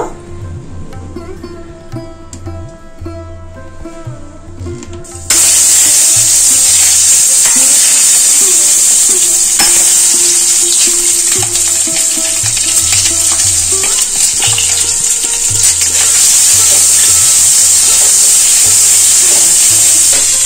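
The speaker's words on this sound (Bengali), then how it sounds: "এই হাঁসের ডিমটা একটু নুন আর হলুদ দিয়ে ভেজে নেব। কড়াইয়ে সরষের তেল দেব।" Peeled boiled duck eggs fry with salt and turmeric in hot mustard oil in a kadai: a quiet stretch of stirring, then a sudden loud, steady sizzle that continues close up under occasional spoon scrapes.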